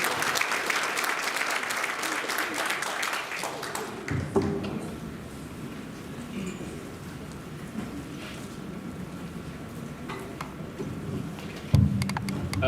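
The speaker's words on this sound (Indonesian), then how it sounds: "Tepuk tangan buat Mas Andi" Audience clapping for a guest at a library inauguration talk: a dense burst of applause for about four seconds that quickly tapers into quieter room noise, with a brief bump near the end.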